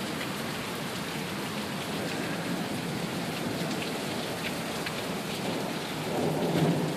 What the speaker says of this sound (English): This is about unlike anything I've ever seen before from a torrential downpour